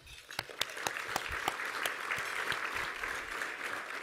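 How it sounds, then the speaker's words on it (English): Applause fills an audience at a chamber of commerce awards ceremony: a burst of clapping from many hands, with a few sharp, close claps near the start settling into a steady, dense patter for about four seconds. "Let's give them an applause"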